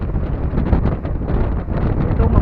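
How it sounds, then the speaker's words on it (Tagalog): Strong wind at Bagasbas Beach in Daet, Camarines Norte, buffeting the microphone in a steady, loud, low rumble with no pauses and no voices. "Medyo mahangin, ang lakas ng hangin."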